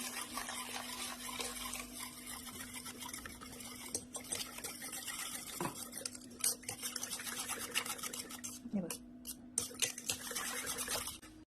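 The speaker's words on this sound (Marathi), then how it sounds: "आता यात थोडं थोडं करून पाणी घालायचं आहे आपल्याला" A spoon scrapes and stirs water into gram flour batter for methi gota bhaji, a long run of soft rhythmic wet swishing and clicking, close but quiet, with a faint steady hum beneath.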